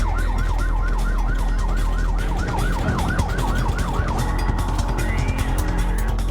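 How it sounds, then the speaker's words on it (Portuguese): An ambulance siren wails in rapid repeating up-down cycles, loud and close over traffic rumble on a road, then shifts to a steadier tone near the end. "Mas, de repente, a sirene dispara"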